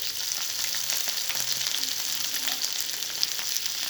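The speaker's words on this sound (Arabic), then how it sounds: "شوحي الاول الصدق كده مع الثوم" Alexandrian-style sadaq sausage sizzles with garlic and pepper in a pan on a spirit stove, giving a steady, close, crackling fry with no talk.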